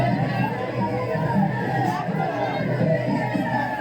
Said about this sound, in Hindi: अरे ये देखिए लोगों का भीड़